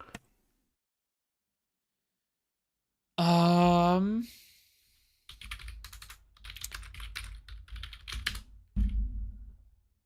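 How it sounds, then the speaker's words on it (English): Loud computer keyboard typing in quick irregular bursts, close and clear, following a stretch of silence and a brief vocal tone. "I thought my keyboard was fucking loud."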